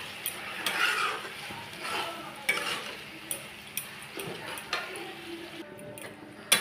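Turmeric, cumin and coriander powder being stir-fried for tehari, with repeated sharp clinks and scrapes of a metal spoon against the pan over a low sizzle, the strokes coming at irregular intervals, close and alone.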